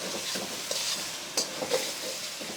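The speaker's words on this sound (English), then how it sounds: "Fold the food over and then scrape down any bits that are sticking." Beef stir-frying in a wok for Mongolian beef, with a steady close sizzle and a spatula scraping and folding the meat in brief clatters, with no talking.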